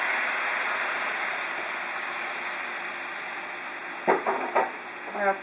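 Onions fry in a paella pan with a loud, dense, constant sizzle and steamy hiss, close by, with a few light utensil scrapes near the end.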